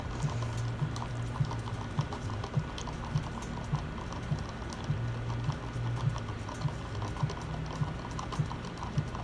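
Powder pigment being stirred into epoxy resin, giving a steady run of small clicking, scraping taps from the tool against the cup, close and fairly quiet, with no talking.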